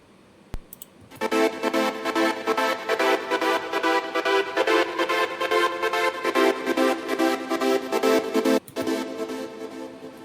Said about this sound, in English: this was the gated pad